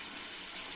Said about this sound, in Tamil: இப்போ இந்த கிரேவிக்கு தேவையான அளவு திட்டமா தண்ணி ஊற்றிக்கோங்க.